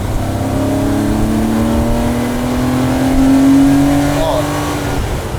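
A Porsche 911 with stiffened multi-adjustable suspension revs toward the top end, its engine note climbing steadily over several seconds as a loud, sustained drone, with some background noise and possible voices mixed in.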